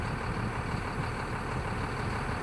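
A small boat's engine runs at the seashore, a steady droning hum holding a constant level throughout with no voices over it.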